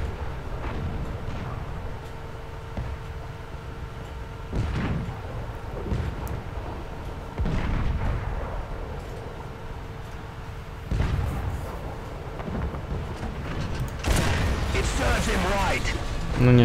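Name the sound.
tank cannon fire in the video game War Thunder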